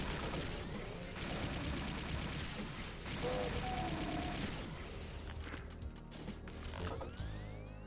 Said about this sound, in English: I keep shooting at them